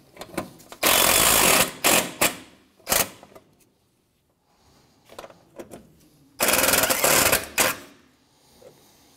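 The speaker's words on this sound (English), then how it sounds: "go ahead and tighten these bolts down" Power tool bursts tighten bumper bolts on a 2007-2013 Mitsubishi Outlander, with two long loud runs and several short sharp blips in between, close and without talk.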